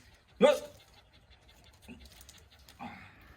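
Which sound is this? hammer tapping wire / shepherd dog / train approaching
shepherd dog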